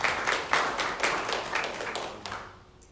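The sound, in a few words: audience applause for the co-exhibitors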